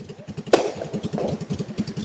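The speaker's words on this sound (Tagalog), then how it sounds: "Maiingay na naman ang motor." A motorcycle engine runs with a rhythmic putter and a sharp clank partway through, close and steady, heard in a Philippine neighborhood on New Year's.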